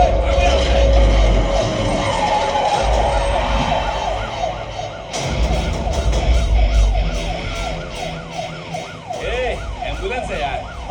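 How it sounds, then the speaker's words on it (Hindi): A police car siren wails, rising and falling repeatedly, moderately loud and growing clearer over rumbling traffic, with voices briefly heard, in a South Indian film dubbed in Hindi. "ये तो पुलिस का सायरन है।"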